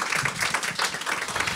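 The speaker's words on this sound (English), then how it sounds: "Another round of applause for them." Applause from an audience at a rehab center's amputee walking school event, a steady dense wash of clapping filling the whole moment without pauses.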